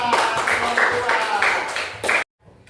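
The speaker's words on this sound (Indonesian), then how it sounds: "Tepuk tangan semuanya." Brief burst of audience hand clapping in a classroom Quran recitation presentation, several seconds of steady claps that stop abruptly, followed by faint sound.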